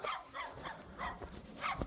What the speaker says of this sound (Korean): 저 옆집에 강아지들이 벗이 되어서 저를 아주 험하게 반겨주고 있습니다